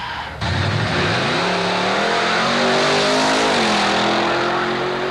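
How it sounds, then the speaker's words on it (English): A 1962 Chevy Nova wagon with a 350 engine launches at a drag strip, a loud sudden roar that climbs steadily in pitch through the gears and stays close and dominant throughout, with no talk. "on the pit lane right now up against the Nova wagon that belongs to Eddie Long out of Santee"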